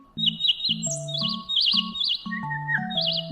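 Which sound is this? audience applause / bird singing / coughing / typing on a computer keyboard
bird singing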